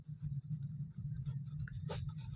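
A pen or marker scratches out an equation by hand in short strokes and scrapes, close and soft, over a constant low hum.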